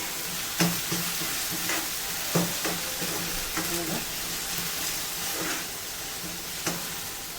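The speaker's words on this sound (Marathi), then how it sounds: "कांदा भाजून घ्यायचा आहे तेलावर परतून घ्यायचा आहे" Onion frying in oil in a pan, with a steady loud sizzle and a rhythm of stirring knocks and scrapes throughout.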